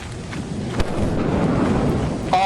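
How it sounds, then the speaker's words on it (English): Thunder rumbles through a steady rain-like wash, a sharp crack near the start and a continuous low roll after, with a brighter burst near the end. "It's thundering."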